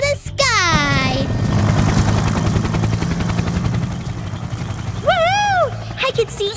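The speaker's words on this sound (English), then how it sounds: "Hop in my helicopter and we'll fly through the treetops to get a bird's eye view." A cartoon helicopter lifts off with a steady, loud whirring roar, opening with a falling whistle and carrying a rising-and-falling vocal whoop near the end.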